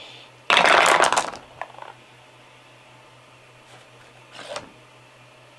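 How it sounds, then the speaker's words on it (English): Plastic dice tumbling out of a dice tower for the board game Scream or Die, a loud burst of clattering rattles lasting about a second, then a few scattered clicks and a brief second rattle later, with no talk. "So the dice would roll right out like that."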